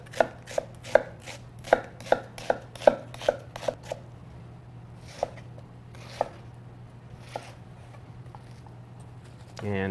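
Knife chopping vegetables on a cutting board into shorter lengths, a quick run of about a dozen crisp, evenly spaced chops, then a few slower, softer cuts, close up over a steady low hum.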